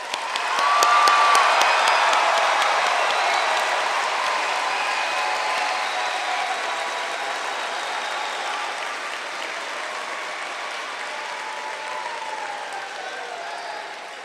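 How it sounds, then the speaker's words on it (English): Crowd applause at a 2023 Wimberley High School graduation ceremony, a steady wash of clapping with a few whoops that swells early and slowly tapers across the stretch, with no talk. "Give the graduates a round of applause."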